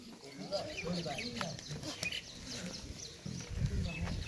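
A young male goat bleats in short, rough calls amid a busy livestock market, with other animal calls and people talking close by.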